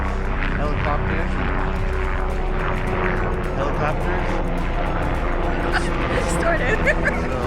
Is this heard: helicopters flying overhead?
yes